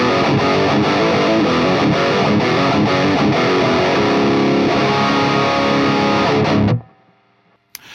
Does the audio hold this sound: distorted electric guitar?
yes